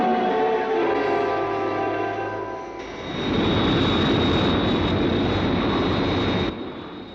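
Jet aircraft engine roaring steadily at close range, first a droning whine with tonal hum, then a louder broadband rush of thrust that cuts off abruptly near the end, from a 1967 Captain Scarlet puppet series.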